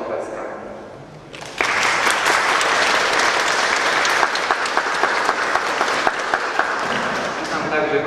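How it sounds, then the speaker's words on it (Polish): Applause inside a church greeting the mayor and his wife, bursting in after a quiet second and a half and holding as steady, full clapping from a seated congregation for the rest, with a few sharper individual claps. "Myślę, że w świątyni możemy wyjątkowo przywitać oklaskami."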